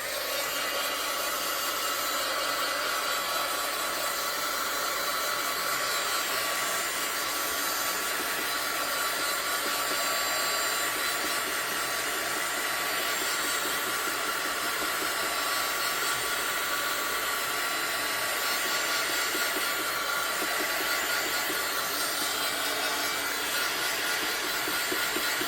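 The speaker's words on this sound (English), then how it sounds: "we are going to hit it with our heat gun." A heat gun drying a mixed-media collage coaster gives a loud, continuous, even blowing roar that holds steady the whole time, with no voices.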